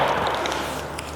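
A 45-70 Springfield trapdoor rifle shot striking a watermelon, a single loud, sharp burst that fades quickly into a wet, splattering tail.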